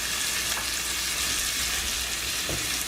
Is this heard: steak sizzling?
yes